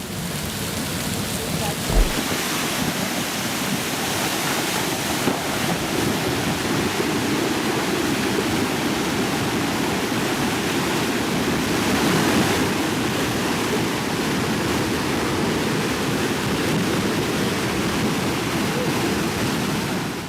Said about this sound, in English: Behold, the world's dirtiest waterfall.